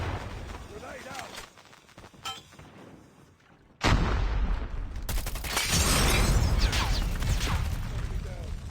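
In a first-person shooter, a thrown grenade goes off with a sudden loud, booming blast that rolls into sustained rumbling battle noise, with scattered gunfire beforehand.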